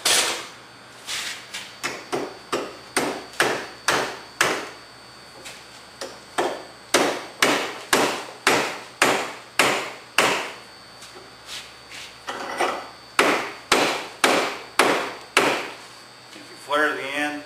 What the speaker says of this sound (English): Now we're going to take a hammer and we're going to beat that thing home.